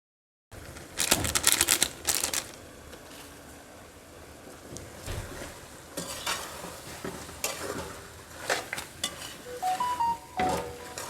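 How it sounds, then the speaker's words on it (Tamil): A spoon stirs chicken with store-bought chicken masala powder in a pan: irregular scraping and clinking with a soft sizzle underneath, close and fairly steady, with no talking. "சிக்கன் மசாலா போட்டு அது மிக்ஸ் பண்ணிடுறாங்க, ஒரு கிளறிடலாம்"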